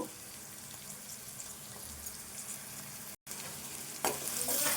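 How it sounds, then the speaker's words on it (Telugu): Chillies and onion sizzle steadily in hot oil with ginger garlic paste for an okra fry, a close, continuous crackle that briefly drops out and then swells louder near the end. "ఇదంతా కలుపుకోవాలి ఈ మిర్చి ఉల్లిపాయ వేగాలి"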